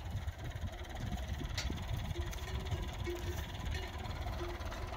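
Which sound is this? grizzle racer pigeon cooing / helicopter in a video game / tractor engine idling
tractor engine idling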